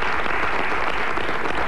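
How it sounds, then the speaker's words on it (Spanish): Television studio audience applauding a theatre guest on a Spanish arts programme, a steady, full burst of many clapping hands, brief and alone. "Un aplauso, por favor."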